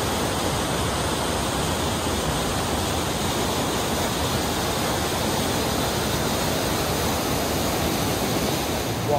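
A waterfall in the USA pours with a loud, unbroken roaring rush, constant and close from start to finish, with no voices over it.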